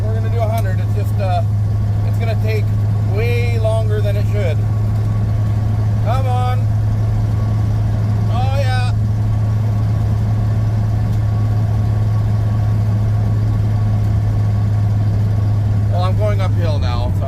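An old truck labours up a slight incline, its engine a steady, loud low drone throughout, while a voice talks in short bursts over it.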